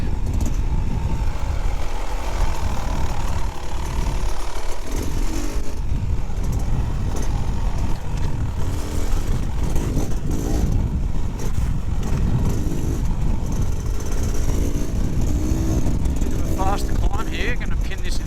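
A 2024 Beta Xtrainer 300 dirt bike engine pulling in third gear on a trail ride, a continuous buzzing two-stroke drone that rises and falls with throttle, with someone talking over it.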